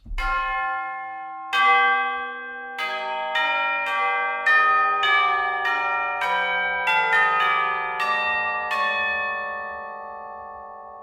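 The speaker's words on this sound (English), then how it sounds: "Tubular bells." Clear, resonant tubular bell tones from an orchestral sample library ring out one by one in a slow melodic line, each chime sustaining and overlapping the next.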